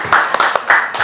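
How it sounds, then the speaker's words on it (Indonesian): Audience applause at a public discussion on Surabaya waterfront land, a short burst of hand clapping from a small crowd, fairly close and loud, lasting about a second. "Tepuk tangannya dulu mana?"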